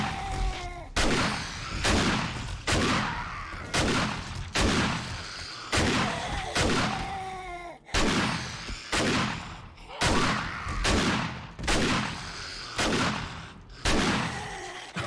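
An auto shotgun blasts away at a horde of zombies in 7 Days to Die, with about fifteen heavy booming shots in a steady rhythm about one per second, each loud and close with a short tail.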